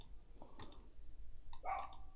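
A computer mouse clicks a few times while shopping online, sparse sharp clicks with quiet gaps against a faint background, close and soft.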